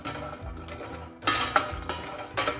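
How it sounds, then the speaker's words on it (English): Walnuts are roasted and stirred in a pan with a little ghee over medium flame, making bursts of rattling, scraping clatter as the nuts are moved around, close and moderately loud, with no voices. "add these walnuts in the same pan and again roast for 2 to 3 minutes on medium flame"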